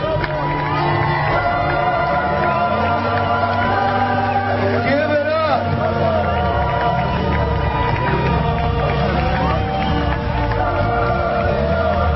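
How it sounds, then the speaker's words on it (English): A sustained roar rises from a big street crowd at a Bakersfield Veterans Day parade as Vietnam veterans roll by, dense cheering and shouting carrying on evenly and loudly throughout, with talk blended in. "I want sustained applause."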